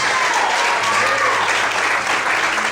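Church congregation clapping during a night worship service, a loud, even roar of applause from many people, sustained without break and lightly mixed with crowd voices.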